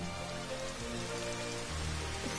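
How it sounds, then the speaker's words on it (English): Rain falling in the video game Final Fantasy XV: a steady, even hiss of raindrops pattering on surfaces, continuous and moderately quiet, with no voices present. "It's raining."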